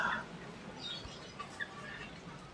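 A white starling (Jalak Putih) in an aviary gives a few short, faint chirps over quiet background noise.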